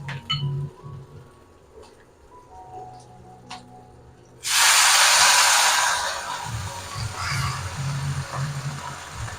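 Mustard seeds, urad dal and curry leaves dropped into hot oil, a sudden loud burst of crackling sizzle that fades into steady spattering, after quieter clicks and faint background hum.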